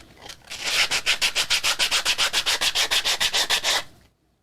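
A wooden coaster is sanded by hand, a rapid, even series of about twenty back-and-forth scraping strokes, close and loud, stopping abruptly into silence.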